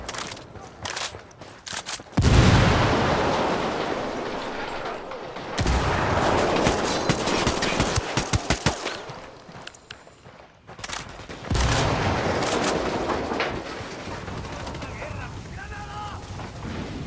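A grenade explosion and gunfire in the Ghost Recon Wildlands shooter game, with loud booms and rapid fusillades in several bursts, plus game voice callouts.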